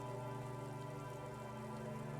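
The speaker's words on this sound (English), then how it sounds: "Rain falls down on the world." Steady rain falls and drips in a grey, thawing city scene from the video game Disco Elysium, a continuous, even hiss of drops beneath a low sustained musical drone, with no voices.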